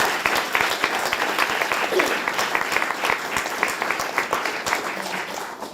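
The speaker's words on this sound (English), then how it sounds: "let's give her a hand clap again" Sustained applause from an audience at a school board of education business meeting, honoring a student; dense, steady clapping from many hands continues throughout at a fairly loud, even level.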